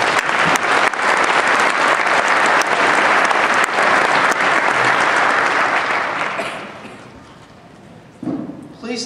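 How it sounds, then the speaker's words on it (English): Graduation ceremony audience applauding loudly, a broad sustained wash of clapping for about six seconds that then tapers off, with a brief burst of speech near the end. "So, another round of applause."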